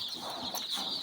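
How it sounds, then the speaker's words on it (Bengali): Chicken chicks on a farm, a flock of three hundred native chicks, chirping in a continuous high, busy chorus at close range with no talk. "মুরগির বাচ্চা"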